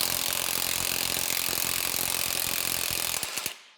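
A puller tool on the harmonic balancer of a Cobra Mustang engine being tightened off the crankshaft, giving a loud, dense run of rapid mechanical clicks and grinding that stops abruptly near the end.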